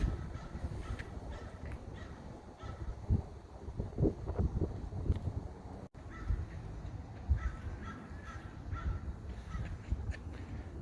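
Crows cawing outdoors along a city street on California Avenue, scattered harsh calls at moderate distance over wind noise and street rumble, with no talk.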